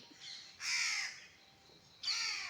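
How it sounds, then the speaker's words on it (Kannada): Two crow chicks give harsh, nasal caws in two loud bursts, one near the start of the stretch and another toward its end, with a softer call in between. No one speaks. "ಆ ಮರಿ ಇಪ್ಪತ್ನಾಲ್ಕು ಗಂಟೆ ಕೂಗ್ತಾನೇ ಇರ್ತಾಳೆ"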